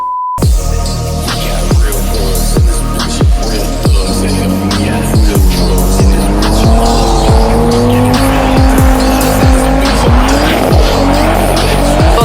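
A car drifts on a race track at a private track day, tires squealing in long wavering wails over a revving, pulsing engine, loud and close throughout.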